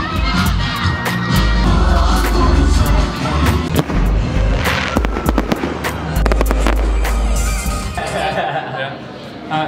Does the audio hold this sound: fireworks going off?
yes